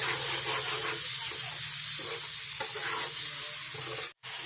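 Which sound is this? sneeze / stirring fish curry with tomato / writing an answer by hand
stirring fish curry with tomato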